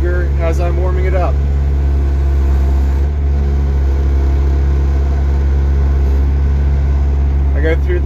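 A machine's engine warms up with the throttle held just below full, a loud, steady low drone that runs unbroken throughout, with brief voices heard faintly over it near the start and end.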